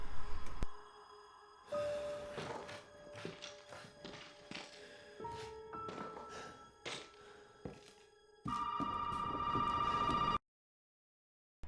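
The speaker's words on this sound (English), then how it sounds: "Ethan answers a ringing phone" A telephone in the video game Resident Evil Village rings in long repeated bursts, with footsteps and taps between rings, moderately loud, then a brief silence at the end.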